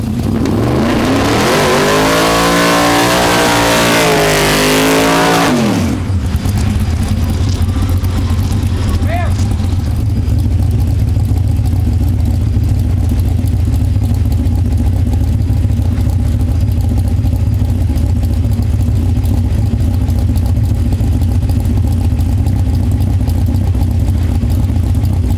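A Pro Mod drag race car engine revs hard and loud for about six seconds, then drops to a steady low rumbling idle that runs on to the end.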